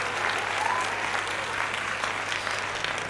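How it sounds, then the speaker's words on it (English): Steady crowd applause fills the space evenly and loudly from start to finish, with no single claps standing out. "Applause for you."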